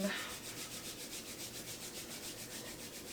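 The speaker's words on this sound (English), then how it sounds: "we are going to bring our palms together and rub them" Palms rubbed briskly together in a yoga session, a soft rhythmic swishing friction with an even back-and-forth pulse, quiet and close throughout.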